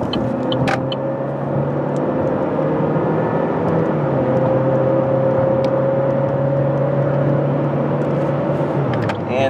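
A 2017 Chevy Malibu LS accelerates up a highway merge ramp, its engine holding a steady, loud drone with rising tonal whine, continuous road and tire roar throughout, no talking.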